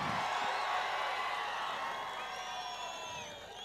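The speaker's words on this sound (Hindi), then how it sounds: "ताली बजाओ रमेश भाई के लिए।" Rally crowd cheering and whooping for candidate Ramesh Katti at an election campaign event in Chikkodi, a loud sustained roar of many voices that tapers slightly near the end.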